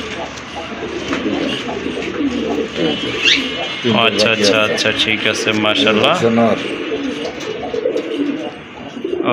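Domestic and foreign fancy pigeons at a sale, including Rajgolla, German Shield and Satin breeds, coo in repeated throaty rolls up close while people talk over them.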